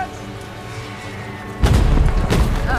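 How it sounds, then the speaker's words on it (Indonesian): A deep, heavy boom of a World War I German mortar explosion bursts in after a low rumbling background, followed by rolling crackle and a second thud. "Beberapa saat kemudian, terdengar suara ledakan."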